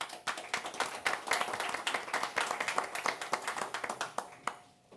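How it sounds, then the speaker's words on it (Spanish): Audience applause at a neuroscience panel session at a university event, many hands clapping steadily and densely for about five seconds before tapering off at the end. "para quien pido un gran aplauso."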